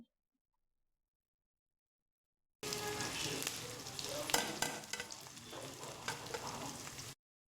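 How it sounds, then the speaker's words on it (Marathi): Onion and garlic fry in oil with turmeric for a drumstick-leaf dish, a close steady sizzle crackling with light stirring, starting abruptly after silence and cutting off a few seconds later. "कांदा छान परतून घ्यायचा आहे।"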